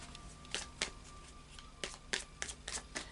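A deck of tarot cards is shuffled by hand in a quiet room, giving several crisp riffling bursts at irregular intervals, close and fairly soft.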